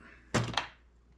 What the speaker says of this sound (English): I'm running into banging on my table here.